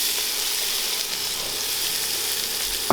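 Garlic and onions hit hot olive oil in a pan for homemade broccoli cheese soup, making a loud, steady frying sizzle with a brief spatter at the end. No one speaks.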